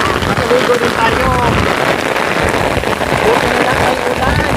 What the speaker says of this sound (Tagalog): Buti na lang ay ulan.